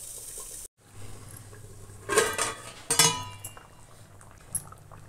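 A lid is set over a pan of Bengali-style mustard pabda fish, giving a couple of metallic clanks and rattles over a low simmering hiss, following a brief silent gap.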